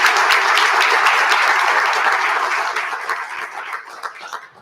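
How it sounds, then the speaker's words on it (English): Audience applause for the caterers at a civic luncheon marking a city's State of the City address in Moscow, Idaho: steady, dense clapping from a large room that holds for a few seconds and then thins and fades out. "if we could give Wilder Catering a round of applause for the delicious food"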